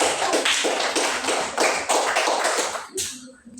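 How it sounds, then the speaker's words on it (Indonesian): A classroom of students applauds together, dense rapid clapping that stays loud and steady for about three seconds before tapering off abruptly. "Tepuk tangan."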